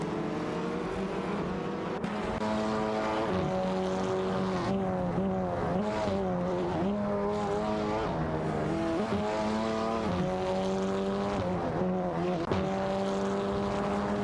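Race cars, an Audi TT Cup and a Honda Civic, scream through a racing video game, their engine notes holding steady and shifting pitch up and down through gear changes. The loud, continuous roar never drops out.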